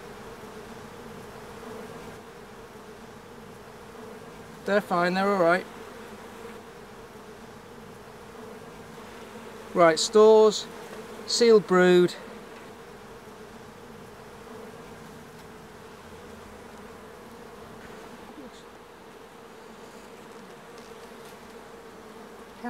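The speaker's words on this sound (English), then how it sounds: "This is getting quite busy with bees" Honeybees drone steadily around an open hive during a frame inspection of stores and sealed brood, a close, low hum beneath short bursts of people talking.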